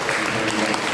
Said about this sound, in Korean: 우리 박수로 한번 여러분들 환영하겠습니다